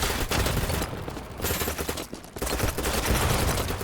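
Rapid gunfire in the first-person shooter Battlebit Remastered, loud close bursts of shots in quick succession with two brief lulls, a pistol among the weapons in the firefight.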